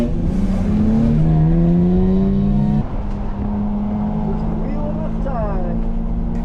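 A BMW 335i on a hot lap at Mission Raceway. The engine drones loudly and continuously from inside the car, with rising and falling revs through the gears and a brief dip at a shift partway through.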